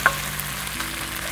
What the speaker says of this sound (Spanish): Según es carne molida que no tiene mucha grasa y siempre está soltando el aceite.